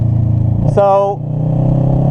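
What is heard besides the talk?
motorcycle engine while riding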